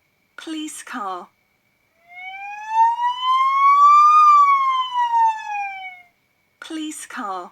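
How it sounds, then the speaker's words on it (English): A police car siren gives one clear, loud wail that rises and then falls over about four seconds, with brief spoken words just before and after it. "police car"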